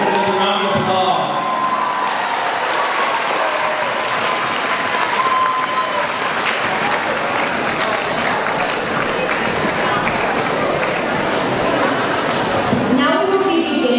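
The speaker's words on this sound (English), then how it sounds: "Let's give them a round of applause." Sustained audience applause at a 2019 Model UN closing ceremony, a dense, loud wash of clapping hands filling the whole stretch, with a few voices rising briefly at the end.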